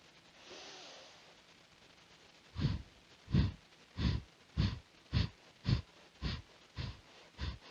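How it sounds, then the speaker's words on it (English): During a youth mindfulness exercise, one long, soft breath is drawn in. It is followed by a steady train of about nine sharp, forceful breaths through the nose, close and evenly paced, with no talking. "Nice big breath in."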